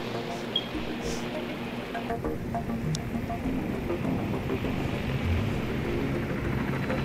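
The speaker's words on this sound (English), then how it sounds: "I'm taking an American chopper and flying it directly into their base." An American helicopter in ARMA 3 S.O.G. Prairie Fire flies toward an enemy base, its rotor wash a dense, rain-like roar that runs steadily under occasional talking.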